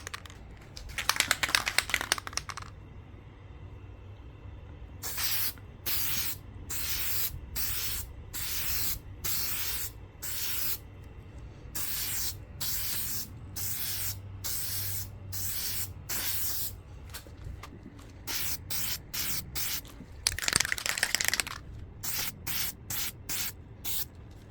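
A spray can lays peelable paint onto an Xbox Series S in a rapid series of short hissing bursts, with a couple of longer sprays near the start and end, close and loud with nobody talking.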